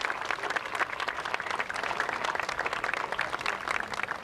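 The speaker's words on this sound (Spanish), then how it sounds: "vamos a dar un aplauso bien grande" A crowd at a 1995 grand opening and ribbon cutting ceremony gives dense, sustained applause, with many hands clapping evenly and filling the room without letting up.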